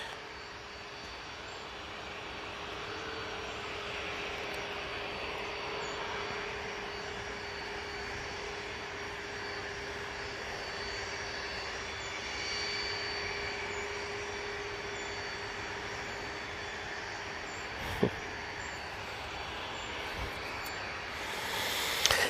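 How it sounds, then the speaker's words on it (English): A Ryanair airliner arriving from Gdansk at Manchester Airport gives a steady jet engine hum with a sustained whine, gradually building in loudness, with a couple of brief knocks near the end. "Next in, we've got the Ryanair coming in from Gdansk."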